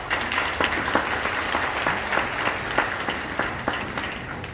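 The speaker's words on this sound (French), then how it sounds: "Vous pouvez déjà applaudir." An audience at a talk on success in Burkina Faso claps steadily, a broad continuous wash of applause with some sharper individual claps standing out at a fairly even, moderate level.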